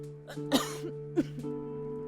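Two short coughs about half a second apart, close and fairly loud, over a steady low hum, with a softer throaty sound between them.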